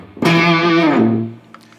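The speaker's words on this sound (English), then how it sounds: "So I can run this either as an octave fuzz" Electric guitar through a Mythos Argo octave fuzz pedal, a single loud, gritty sustained note with octave overtones, struck sharply and ringing about a second before fading, with faint string noise after.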